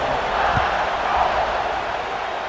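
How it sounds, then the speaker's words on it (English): A stadium crowd in the EA Sports College Football 26 video game keeps up a steady, dense murmur and roar after a touchdown, a broad wash of noise with no distinct cheers. "this crowd is buzzing after that last score"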